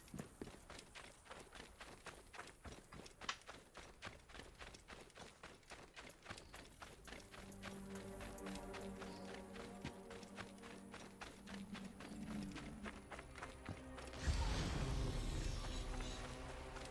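Steady, rhythmic horse hoofbeats clop along for a long stretch in the video game Assassin's Creed Origins, joined by music, swelling louder toward the end with a rush of noise.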